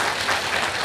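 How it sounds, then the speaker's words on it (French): Steady applause from an audience at a ceremony for an author's first book, dense and even throughout, with no voices standing out. "Je voudrais qu'on applaudisse."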